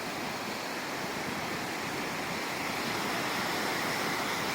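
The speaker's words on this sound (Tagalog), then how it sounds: "Strong waves, don't go far." Strong ocean waves on a beach give a steady, broad roar of surf that fills the whole stretch evenly, heard up close and with no voices.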